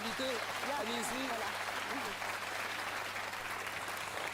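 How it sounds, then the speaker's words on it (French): Studio audience applauding a guest on a television quiz show, steady soft clapping throughout with a voice speaking over the start. "applaudissements pour Annie, notre dernière invitée"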